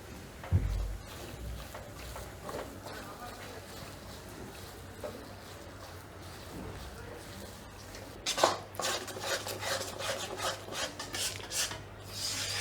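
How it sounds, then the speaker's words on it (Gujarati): Gram flour for mohanthal roasts in a pan over medium heat while a spoon scrapes and stirs it, giving irregular rasping strokes that grow busier and louder toward the end. "અને હલાવતા રહેશું"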